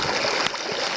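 Moving water of a small stream in the Rogue's Roost wilderness near Terence Bay, Nova Scotia, a close, steady trickling and gurgling with a brief splash midway, heard alone.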